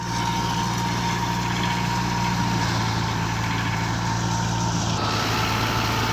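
A wheat harvesting machine runs off a tractor's shaft in the field with a steady engine drone, a low mechanical hum and a whirring whine. It stays loud and constant throughout, with a small shift near the end.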